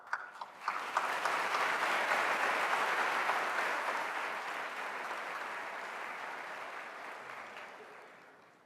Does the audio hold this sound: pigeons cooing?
no